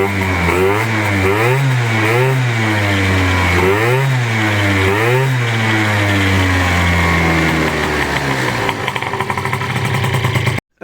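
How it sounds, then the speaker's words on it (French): A Peugeot Speedfight 2 50cc scooter fitted with a Malossi kit starts up close by and revs in repeated rising-and-falling bursts over a steady idle, loud throughout before cutting off abruptly at the end. "maintenant je vais effectuer le démarrage et puis je vais regarder sur béquille la différence"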